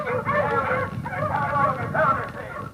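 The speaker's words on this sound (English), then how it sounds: "Oh, those dogs barking." Dogs barking in an old-time radio mystery drama, a cluster of yips and bow-wows repeating in bursts across the clip, moderately close and mixed with other sound.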